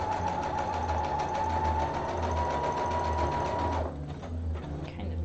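Close and loud, a sewing machine runs a seam in a steady, fast mechanical chatter with a humming motor tone, then stops abruptly near the end, leaving a few faint handling noises; no one speaks.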